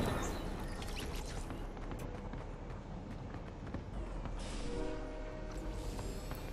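Rumbling train in a video game rolls past amid dense game noise, with a steady broadband roar and scattered clanks and thuds running the whole time.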